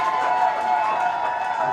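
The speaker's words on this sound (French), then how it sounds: "Applaudissez très très fort pour le village de Bébé." An audience cheering and applauding for the village of Bébé at a community installation gathering in Yaoundé, a brief, dense wash of crowd noise with a sustained high tone riding over it.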